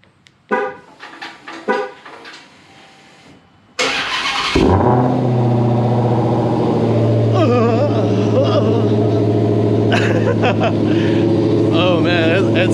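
A Dodge Challenger Hellcat engine cold-starts, cranking and firing into a loud, steady idle, a deep rumbling Corsa Extreme full exhaust after a few brief thumps and a short burst of voices.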